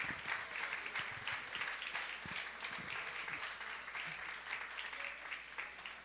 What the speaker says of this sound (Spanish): Le damos un fuerte aplauso al Señor entonces.